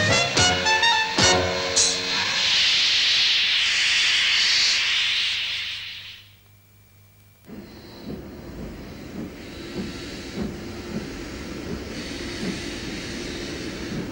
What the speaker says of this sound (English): a veteran tank locomotive arrived in Auckland after an 800-mile journey